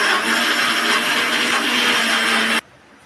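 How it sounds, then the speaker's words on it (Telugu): A kitchen mixie grinds green chillies and ginger into a paste with no water, a loud, dense whirring whine running steadily close up for about two and a half seconds before cutting off sharply. "దీంట్లో పచ్చిమిరపకాయలు అల్లం 2 వేసేసి మిక్సీ కొట్టేసుకోవాలండి"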